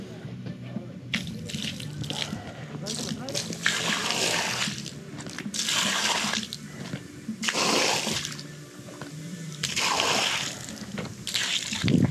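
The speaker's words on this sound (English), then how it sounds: "Just need to acid wash a little bit more and then spray it off." A hose sprays water across freshly acid-washed sand-finish concrete, coming in repeated loud hissing bursts as the stream sweeps back and forth, with quieter dripping and trickling between passes.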